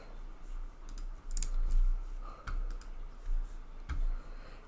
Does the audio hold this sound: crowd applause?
no